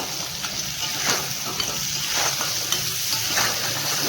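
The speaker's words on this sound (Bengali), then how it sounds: "আলুর সঙ্গে কাঁকড়াটা একটু হালকা করে ভেজে দেবো।" Crab pieces and potatoes fry lightly in a pan over a raised gas flame, giving a steady, fairly loud sizzle with soft stirring scrapes now and then, with no voices.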